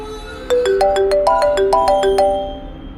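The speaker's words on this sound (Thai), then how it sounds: "นี่มันเบอร์โทรศัพท์ของพ่อไอ้นัทนี่นา จะโทรมาหาผมทำไมเนาะ" Telephone ringtone used as a sound effect in a Thai ghost story narration, a loud electronic melody of about a dozen bright, evenly spaced tones after a short quiet start, fading toward the end.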